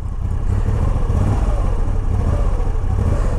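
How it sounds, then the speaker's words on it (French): A Moto Guzzi V85 Strada motorcycle engine idles close by, a steady, loud low-pitched throb with a lumpy, slightly uneven pulse and light mechanical clatter running unbroken throughout. "même au ralenti comme ça, on se souvient que la moto est en route"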